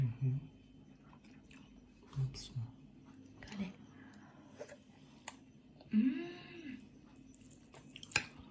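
Close, quiet chewing of a bite of fried chicken fillet in a sweet-and-sour soy sauce glaze, with a few soft, intermittent mouth and bite sounds and a brief spoken word.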